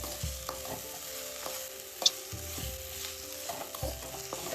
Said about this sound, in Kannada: ಈಗ ಹಸಿ ಅಂಶ ಹೋಗೋವರೆಗೂ ಎಣ್ಣೆಯಲ್ಲಿ ಹುರ್ತೀವಿ